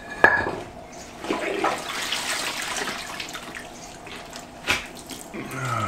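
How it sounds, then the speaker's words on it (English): Wet tanned animal skins wrung out by hand, water splashing and dripping steadily close by, with a couple of sharper sloshes. "So we're going to wring these skins out."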